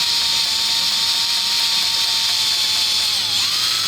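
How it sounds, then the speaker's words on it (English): A steady high-pitched whine of a small power drill with a 3 mm bit running continuously, close up, with a brief dip in pitch near the end. "So this is a 3 mil drill bit."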